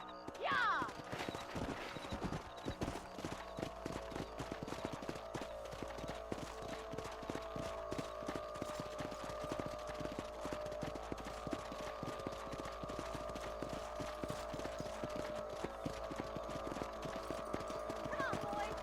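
Horse hooves clip-clop at a quick gallop in the Red Dead Redemption video game, a fast steady rhythm under game ambience, with a brief whinny near the start.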